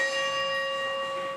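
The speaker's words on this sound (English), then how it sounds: "The bells from the majestic clock tower atop the old City Hall still ring all day long at the Grand Rapids Public Museum." Bells of the clock tower from the old Grand Rapids City Hall ring in one sustained, resonant chime, its steady overtones holding and slowly fading without any talking.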